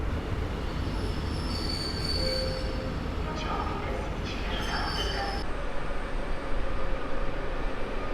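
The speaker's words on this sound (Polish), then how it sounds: "Podstawia się pociąg osobowy do tłuszcza" A passenger train rolls into Warszawa Zachodnia station with high, drawn-out wheel squeals over a steady rumble of rail noise, close and continuous.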